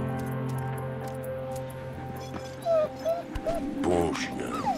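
A dog whimpers and yips in short, high whines over a steady electronic background hum in the video game Valiant Hearts: The Great War, growing more insistent toward the end.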